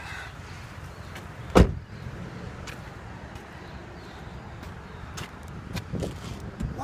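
A single sharp latch clunk as the trunk of a 2012 Toyota Camry LE pops open, close and loud, followed by quiet ambient hiss with a few faint knocks.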